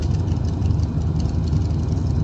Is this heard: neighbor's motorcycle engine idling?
yes